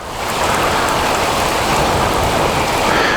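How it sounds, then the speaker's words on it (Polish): Heavy rain pours down steadily during a European road tour, a loud, dense, continuous hiss of drops hitting surfaces close by, with no voices. "trochę się siła tego deszczu zmniejszyła, to siadamy, jedziemy, bo tak to się jechać totalnie nie da"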